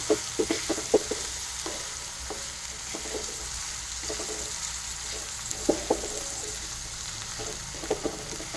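Finely chopped onion frying until golden pink for paneer masala, a steady hissing sizzle with intermittent light scrapes and taps of a spoon stirring the pan, heard close.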